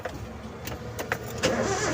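A Toyota Avanza with a crank-but-no-start problem is started, giving a few sharp clicks and bursts as the engine turns over and catches into a low rumble, close by and without talk.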